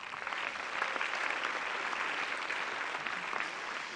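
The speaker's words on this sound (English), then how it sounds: "Give yourselves a clap." A tennis crowd at a court applauds steadily, a dense even patter of many hands at moderate level, somewhat distant, with no voices rising above it.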